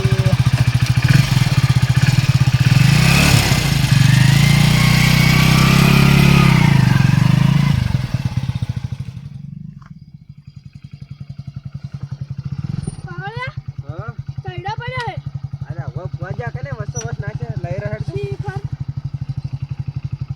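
A motorcycle engine idles loudly and steadily nearby, then its rumble drops away, followed by a quieter idle with a few chirpy voices.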